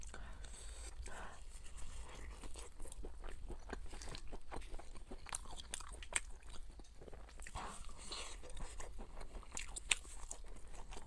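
Spicy Chinese food with pork, noodles, fish and pork gut being bitten and chewed close to the mic, giving repeated crunches and wet mastication over a constant low background hum, with a brief spoken remark.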